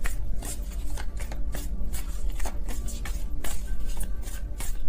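Tarot cards being shuffled by hand, a rapid series of close, crisp riffling bursts repeating steadily throughout without talk.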